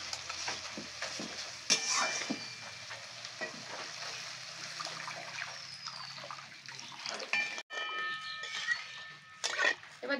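Water poured into a pan of spice paste frying for a Bengali tengra fish curry hisses and sizzles quietly, with soft stirring scrapes and a few clinks, close and fairly faint.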